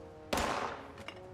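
Gunfire from a troll character in World of Warcraft: one sharp, loud shot rings out and trails off, followed by a couple of fainter shots a moment later.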